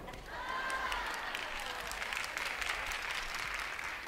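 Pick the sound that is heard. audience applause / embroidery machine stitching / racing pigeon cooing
audience applause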